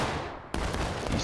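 Musket volley in a video game: a sudden dense crack of massed gunfire bursts out after a brief lull, followed by a rolling wash of scattered shots and battle noise that continues loudly to the end.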